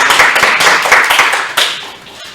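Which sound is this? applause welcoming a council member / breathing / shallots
applause welcoming a council member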